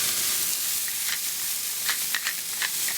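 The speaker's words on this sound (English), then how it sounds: "It sizzles just like a burger." An Impossible plant-based burger patty sizzles in a hot pan, a steady close frying hiss with scattered sharp pops and crackles and no voices.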